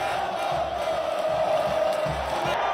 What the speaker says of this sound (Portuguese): O delírio de milhares de torcedores com as cores vermelho e branco.